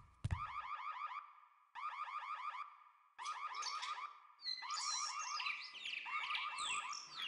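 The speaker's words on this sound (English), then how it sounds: "you can hear the alarm going off" Electronic alarm in the Shrek 2 PC game blaring in repeated warbling bursts, joined toward the end by chirping birdsong, with no one talking.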